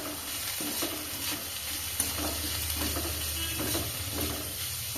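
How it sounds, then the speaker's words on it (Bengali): Panch phoron and dried chili spitting in hot oil as a tempering, a dense continuous sizzle with stirring scrapes in the pan, close and even throughout, no talk. "ছোট চামচে এক চামচ পাঁচ ফোড়ন এবং লঙ্কা ফোড়ন দিয়ে দিলাম"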